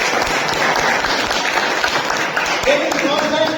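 Audience applause at an Indian constitution awareness program, steady clapping from a gathered crowd with voices speaking over it.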